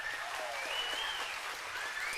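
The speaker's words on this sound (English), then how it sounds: "Give her an applause again." Brief, steady clapping from a concert audience at a spring steel band performance, honoring the lead pan player; about two seconds of even applause with a faint whistle or tone drifting over it.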